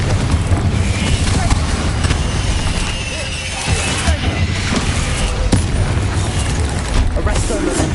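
Booming spell blasts from the Bombarda and Confringo charms in Hogwarts Legacy, played on PS5, go off repeatedly over a loud, busy battle soundscape in a room, with heavy low-end thumps and crashes throughout.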